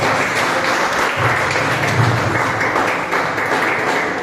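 A church congregation applauds to receive Pastor Lucas, a dense, loud wash of clapping that holds steady throughout, with low murmuring or music underneath.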